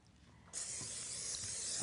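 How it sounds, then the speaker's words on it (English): Cooking spray hisses out of an aerosol can onto a pan on a cooking show set, a single steady, close burst lasting over a second after a brief quiet start. "will you spray that pan for me?"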